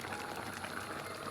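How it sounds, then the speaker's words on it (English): Vegetable stew with peas simmering in a pot, a steady soft bubbling and hiss, faint and continuous with no talking. "I'm just gonna leave that now to simmer down a bit"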